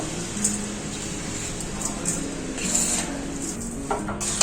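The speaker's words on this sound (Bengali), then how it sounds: "কড়াই বসিয়ে এই নারকেলটা দিয়ে দেবো কড়াইয়ের মধ্যে" Coconut and melted sugar cooking in a wok over a lowered flame for Bengali coconut laddu, heard as soft scraping and clinking of a utensil against the pan over a steady low background, close and moderately quiet.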